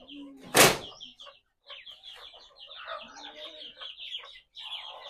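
Chickens cluck and chatter in a coop on a busy farm morning, a sharp loud knock or thump early on, then a steady run of overlapping clucks and calls close by.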